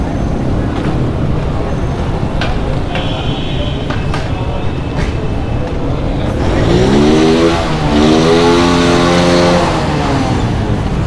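Motorcycles and traffic on a busy Karachi street market in Sadar, a dense roar of engines and street noise with a motorbike revving up and passing close in the second half, voices faintly mixed in.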